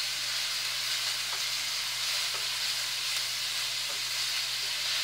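Food frying in a pan while making pumpkin stew, giving a steady, soft sizzle and hiss with faint crackles throughout and no voices.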